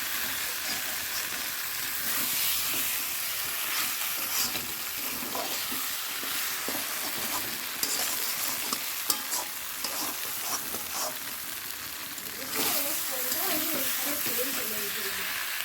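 Bright, continuous sizzling as egg fries in a pan with potatoes, onion, dried chilli and spices, with stirring scrapes and hissing bursts throughout, heard close and fairly loud.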